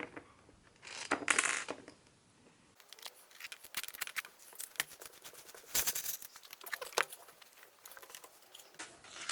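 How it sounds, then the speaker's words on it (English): Loose metal gasket bolts rattle and clink as they are shaken out of an acrylic ventilator valve block, with bursts of scattered metallic clicks and jangles coming close and fairly loud, separated by brief quieter gaps. "Let's shake the bolts out."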